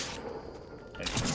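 Gunfire in the video game Fortnite, a burst of shots that gets louder and busier toward the end over a steady game background.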